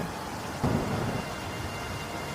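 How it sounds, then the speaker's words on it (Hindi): Thunder rumbles through steady heavy rain on a stormy night, with a low boom swelling in under a second in and rolling on beneath the constant downpour, no voices present. "रास्ते में बहुत जोरों से बारिश होने लग जाती है"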